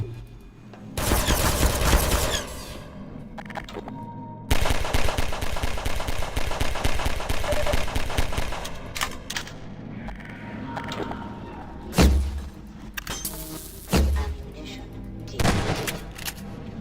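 Loud bursts of gunfire and sniper shots in a Half-Life map with teleported turrets, long sustained automatic volleys followed by shorter separate cracks and booms, with a voice talking over the fighting.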